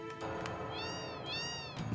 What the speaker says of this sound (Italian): Gatti, gatti ovunque.